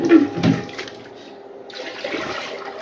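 A miniature 1983 Norris wall-hung toilet flushes in a short, fairly quiet rush of water that fades into a softer trickle and then rises slightly again near the end.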